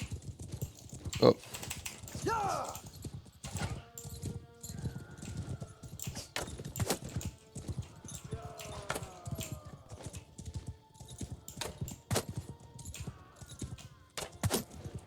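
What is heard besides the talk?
horses galloping in Mount and Blade video game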